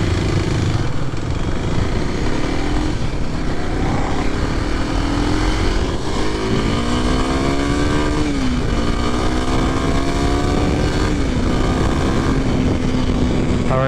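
A 2023 Kawasaki KLX 300SM single-cylinder motorcycle at full throttle, with a loud continuous engine whine climbing in pitch through the gears and dropping briefly at each shift, close up under heavy wind rush.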